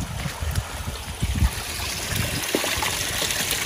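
Small hillside stream trickling down into a lake along the Appalachian Trail, a continuous close babbling wash of flowing water with a few soft low knocks, fairly quiet and without talk.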